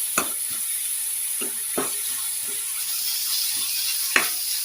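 Leafy greens fry in a pan with a steady hiss, broken by several sharp scrapes and taps of a spatula stirring through them.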